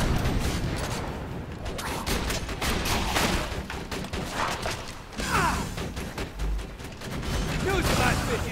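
Dense, loud gunfire and mechanical clatter from a shotgun in Borderlands 2, with rapid overlapping blasts and a voice speaking under the shooting.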